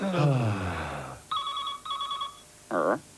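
A telephone rings in two quick bursts from a 1980s British TV advert, a bright electronic trill following a voice and followed by a short sung or spoken phrase.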